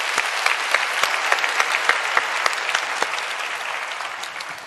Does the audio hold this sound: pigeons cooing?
no